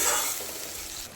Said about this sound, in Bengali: তো আমি তেলের মধ্যে প্রথমে গোটা গরম মশলা দিয়ে দিলাম